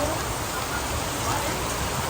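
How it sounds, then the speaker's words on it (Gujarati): Heavy rain pours down steadily, a dense continuous hiss of drops on surfaces, loud and unbroken. "વરસાદ તો આવવાનો જબરજસ્ત પડી રહ્યો"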